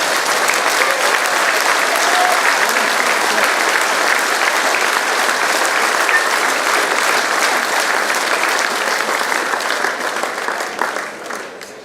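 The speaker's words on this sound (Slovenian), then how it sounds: "predlagam, da jim namenimo en aplavz." A large crowd at an SDS party rally in Bovec gives sustained, dense applause lasting around twelve seconds, loud and even before tapering off at the end.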